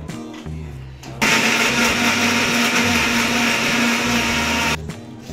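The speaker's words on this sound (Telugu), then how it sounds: "సో నెక్స్ట్ టమాటోస్ అయితే ప్యూరీ చేసేసుకుందాం" A kitchen blender purees tomatoes for paneer curry, whirring loud and close with a steady high-pitched motor drone for several seconds. It starts abruptly after a short lead-in and cuts off near the end.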